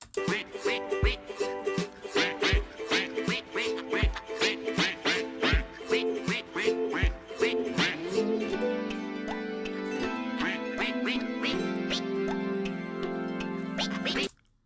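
Duck quacks are voiced in harmony as a song in a Roblox game. Bright rhythmic quacks repeat evenly at first, then merge into sustained harmonized tones before ending abruptly.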